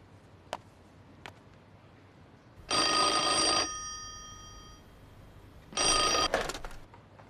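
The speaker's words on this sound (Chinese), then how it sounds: "我刚刚接到冈村总司令的电话" A telephone bell rings in two loud, sharp bursts separated by a pause of a few seconds, preceded by a couple of soft knocks in an otherwise quiet room, with no voices.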